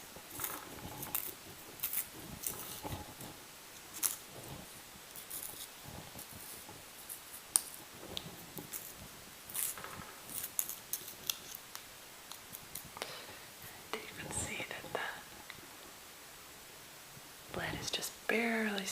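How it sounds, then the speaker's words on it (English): An apple green colored pencil is sharpened close up in scattered scratchy, crisp strokes and clicks, quiet and intimate, with soft whispering running through. "And I'm going to sharpen my apple green."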